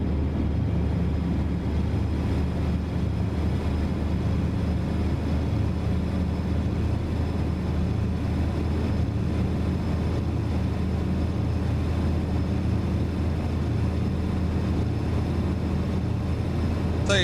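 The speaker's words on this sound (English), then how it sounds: "I like the way this engine sounds too. It's not too loud" Steady low engine drone of a Marmon 57P truck in American Truck Simulator, hauling an excavator on a lowboy trailer through New Mexico; a continuous, moderate, even rumble with no talk.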